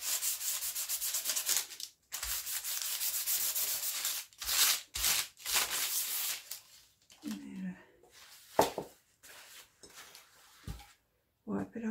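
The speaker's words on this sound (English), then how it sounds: "I'm just going to give it a little bit of a light sand to take the shiny stuff off before I collage it." Sandpaper rubs lightly over the glossy cardboard cover of an ice cream cone box, in short bursts of rasping strokes separated by brief pauses, close up and fairly loud.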